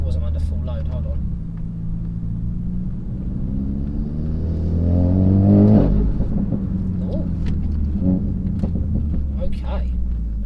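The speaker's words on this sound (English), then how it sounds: "turbo definitely sounds different" A turbocharged Renault Megane engine fitted with a Forge Motorsport turbo inlet adapter rumbles at idle, then revs up with a rising whir and falls back, heard up close with a steady low drone.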